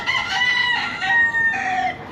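Roosters crow and cluck close by at a tiny house with farm animals, several overlapping calls filling the whole moment with no talk.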